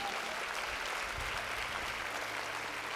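A church congregation applauds during a sermon, a steady wash of clapping filling the room for the full stretch without a break.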